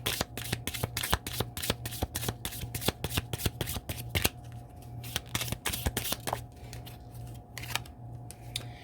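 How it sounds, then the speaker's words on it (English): A deck of tea leaf oracle cards is shuffled close up, giving rapid crisp riffling snaps in a dense run that loosens into sparser flicks as cards are pulled, with no voices. "let me pull some of these tea leaf cards to see what else Spirit has to say"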